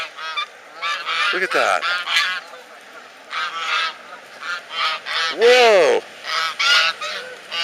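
Ducks honking by a river, with loud repeated honks in uneven bursts, some overlapping, close and carrying over the water, while a voice briefly exclaims.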